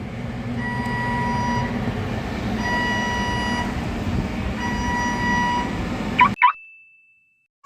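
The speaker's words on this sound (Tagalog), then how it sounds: "Medyo maingay ngayon at may trabaho yung crane" A crane works nearby as a steady mechanical drone with faint tonal whine, continuous for about six seconds before cutting out to near silence, heard from a distance with no talking.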